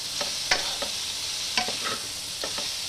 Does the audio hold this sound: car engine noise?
no